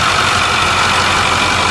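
The 6.4 liter Powerstroke compound-turbo diesel V8 in a 2008 Ford F350 Super Duty King Ranch runs close and loud, a dense steady roar with a constant hiss and no break or change.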